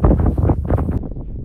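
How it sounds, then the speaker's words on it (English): Strong wind buffets the microphone on a snowy winter hilltop in the Black Mountains, loud low roaring gusts that swell and ease, then drop off abruptly near the end. "find me somewhere to camp up where I'm not getting absolutely battered by the wind"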